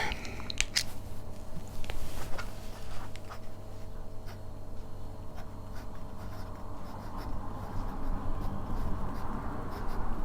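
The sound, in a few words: fountain pen writing on Rhodia paper pad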